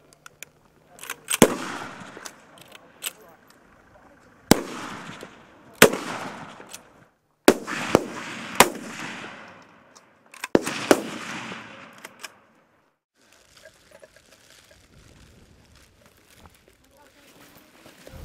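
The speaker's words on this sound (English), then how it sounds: "Safety catch, cock the weapon. 10 rounds at a targeted front." Army cadets firing rifles on a range, heard as sharp single shots at irregular intervals, some close and loud and some fainter, while people talk in between.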